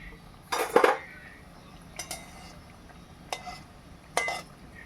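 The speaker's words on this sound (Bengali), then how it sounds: "হালকা তো একটু নেড়ে দিচ্ছি" A utensil gently stirs khurma sweets frying in oil in a pan on low gas, giving a few sharp metallic clinks and scrapes spaced a second or more apart over a faint background.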